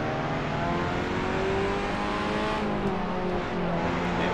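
Racing kart engines in the Assetto Corsa video game drone steadily and loudly, with layered revving tones shifting in pitch as karts run close together on track.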